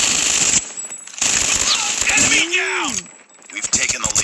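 Rapid automatic gunfire bursts from a Call of Duty video game, loud and dense in several clustered volleys separated by brief gaps, with a voice speaking over parts of it.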